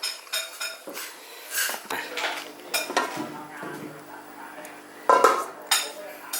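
A pot and metal utensils clink and scrape while spicy Thai beef soup with lemongrass and kaffir lime leaves is cooked, giving irregular knocks and stirring clatter close by, with a sharper cluster of clinks near the end.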